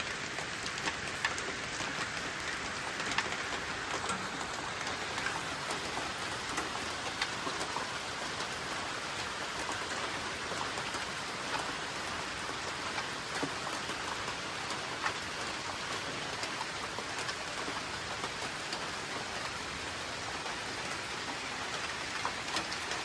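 Steady rain pours on a farm, a dense, even hiss of drops hitting surfaces with no break for the whole stretch, close and constant without voices.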